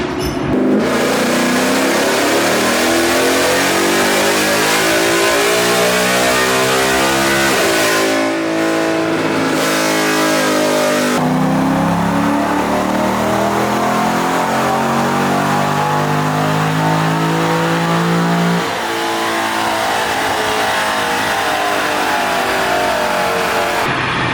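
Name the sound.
car engine revving on a dyno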